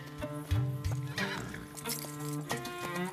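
Mongolian horses in an animated children's scene: a whinnying neigh and quick clip-clopping hooves close up, fairly quiet, with a faint bell-like musical tone behind.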